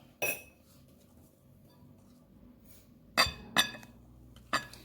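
A spoon stirring thick sponge cake batter in a bowl gives four crisp clinks against the side, one early and three close together near the end, with quiet pauses between.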